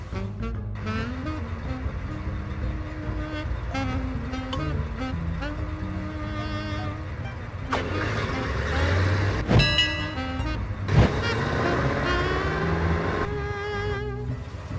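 A taxi cab drives in the Leisure Suit Larry video game, its steady engine hum running under tonal game music, with a few louder bumps and swells near the end.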